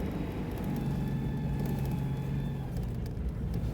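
A Citroen 2CV engine drones steadily at full throttle during ice racing on a ski resort track, a constant mid-distance buzzing rumble with a faint whine, no voices.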